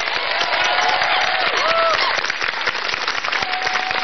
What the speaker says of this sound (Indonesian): Tepuk tangan dong buat mahasiswa dong.